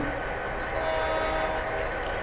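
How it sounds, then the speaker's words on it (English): Model locomotive horn produced by a Blunami sound decoder, a steady sustained tone holding for the whole stretch at moderate level, with no talk over it. "So now we blow our horn"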